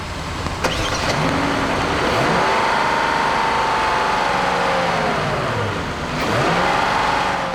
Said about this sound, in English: The G90 is powered by a 5-litre V8 that twists out 420 horsepower and 383 pound-feet of torque.